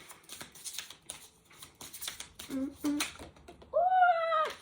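Oracle cards are shuffled by hand in a series of quick, soft riffling bursts close by, ending with a drawn-out vocal sound over the last moments.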